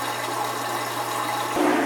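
A Whirlpool washing machine that keeps refilling drains water with a steady, close pump whir and rushing flow, swelling slightly near the end.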